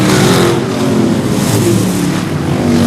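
Street stock race cars roar around Seekonk Speedway, a loud, dense wall of engine noise with rising and falling revs as the pack runs by, no voices over it.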